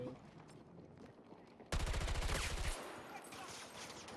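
Rapid automatic gunfire in the Battlefield 2042 shooter game, from an AM40 weapon setup, erupts suddenly as a loud sustained burst of about a second, followed by quieter game ambience and distant shots.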